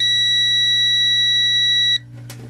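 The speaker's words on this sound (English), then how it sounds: "if we turn the beeper back off" A Crenova auto-ranging digital multimeter's continuity beeper sounds one loud, steady, high tone for about two seconds, then cuts off, leaving faint background hum.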